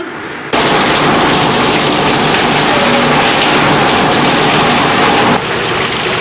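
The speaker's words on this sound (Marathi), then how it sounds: "वर काढलेल्या या कॅनमधून बर्फ सुटा करण्याकरता त्यावर 25°C तापमान असलेले किंवा गरम पाणी मारले जाते." Warm water sprays hard onto ice cans at an ice factory, a loud, steady rushing hiss that starts abruptly after half a second and holds evenly, easing slightly near the end.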